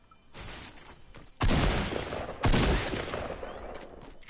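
Pistol gunfire in a shooter game: two loud, close sharp bursts with ringing tails, set against a noisy rushing background, with no one speaking.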